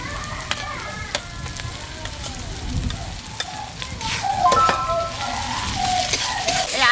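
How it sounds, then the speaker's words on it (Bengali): Ginger-garlic paste fries with onions in hot oil, giving a steady, crackling sizzle. Scraping and stirring clicks come through up close, and the sizzle grows louder toward the end. "এবারে আদা রসুন বাটাটা দেবো।"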